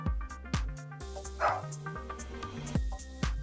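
A police dog in the video game Of the Devil barks several times over a steady game music bed, with sharp, fairly close yips spaced across the passage.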